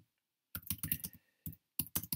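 Close, quiet typing on a computer keyboard: a quick burst of key clicks, a short pause, then another few taps.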